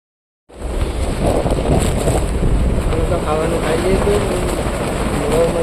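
Strong, steady wind roars across the microphone with a dense wash of rain and water noise aboard a fishing boat at sea in a storm, loud and continuous after a brief silent start.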